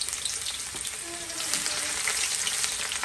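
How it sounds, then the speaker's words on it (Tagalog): Chopped garlic and onion hiss and sizzle in hot oil for adobong manok, a dense, steady crackle with a few faint scrapes, loud and close, with no talking. "Magpapainita tayo ng mantika para igisa natin ang sibuyas at bawang."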